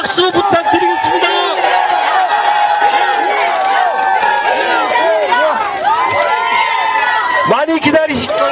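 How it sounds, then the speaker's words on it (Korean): A large crowd at a Korean political press event cheers and shouts continuously, loud and close, with whoops rising above the roar and bursts of clapping near the end. "큰 응원의 박수 부탁드리겠습니다."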